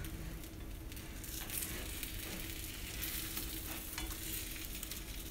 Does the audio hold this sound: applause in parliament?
no